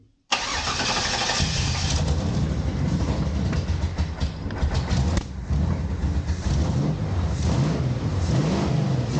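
Old fuel-injected car engine cranks, catches and runs loudly up close, revving unevenly with rising and falling surges for several seconds, no talking over it.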